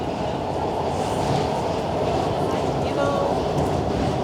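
A Washington, D.C. metro train rushes past nearby, a steady loud rumble and rattle of rail cars filling the whole stretch, with faint wheel squeal near the end and a voice talking over it.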